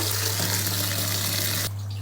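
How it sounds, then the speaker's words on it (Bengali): Cold tap water runs steadily and gushes close by over boiled noodles being rinsed, then cuts off abruptly near the end, leaving a low electrical hum. "একটু ঠান্ডা পানি দিয়ে ধুয়ে নিয়েছি"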